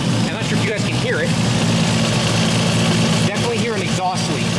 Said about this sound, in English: Definitely hear an exhaust leak.